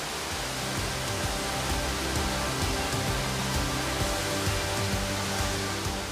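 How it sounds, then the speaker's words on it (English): Cranny Falls waterfall pouring under North Coast sleet in Northern Ireland, a loud, steady broadband rush of falling water that stays even throughout with no voices. "And to add to the waterfall, some North Coast sleet."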